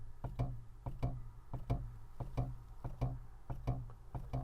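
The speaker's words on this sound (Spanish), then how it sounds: "cuando sueltas el acelerador de este Toyota suena así" Rapid, regular clicking and rattling ticks from a Toyota as the accelerator pedal is released, repeating about every third of a second over a low engine hum, close and fairly faint.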